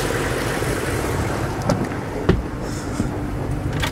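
A 6.5-litre Detroit diesel in a school bus idles with a steady, dense low rumble that holds evenly throughout, with a couple of faint clicks over it and no voices.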